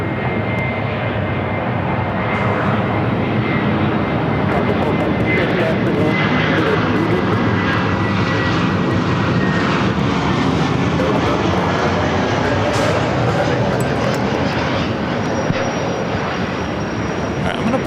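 A Lufthansa 747 and an A321 taxi at LAX, their jet engines a loud, steady roar with a thin whine sweeping slowly across the sound, continuous throughout with speech-like radio chatter faintly underneath.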